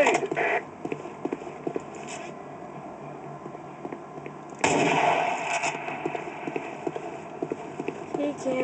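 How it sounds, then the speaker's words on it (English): Gunfire and a grenade explosion in the online shooter Operation 7: rapid clattering shots, then a sudden loud blast about halfway through followed by continued firing, with voices shouting over the action. "Grenade!"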